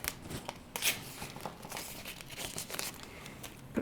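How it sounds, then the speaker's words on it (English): Masking tape or blue painter's tape being handled while preparing a piece for work with a micro rotary hand tool, giving soft crinkling and tearing rustles in short close bursts with no talk. "I'm going to take some masking tape or blue painter's tape"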